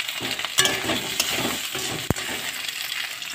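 Potatoes tipped into a hot frying pan for a vegetarian dish, giving a steady close sizzle with a few clinks and stirring scrapes, and one sharp metallic knock near the end.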